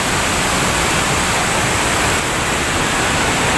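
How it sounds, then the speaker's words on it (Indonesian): Steady roaring rush of the Bantimurung waterfall in Maros, South Sulawesi, about 35 metres high, loud and close, a dense unbroken wash of falling water with no other sounds. "Nah, ini dia suasana air terjunnya."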